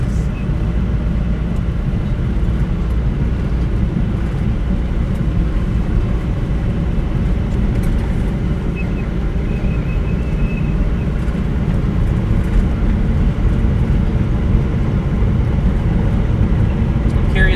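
A camper van rolls along a winter road in the Yukon, its steady loud road and engine drone carrying a rough, grinding undertone that persists the whole way through.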